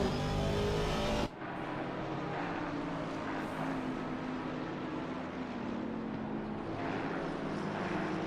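Race cars in a PC racing simulation at Laguna Seca, several cars running side by side with a steady, loud engine roar throughout, briefly cutting out after a second before the dense drone resumes.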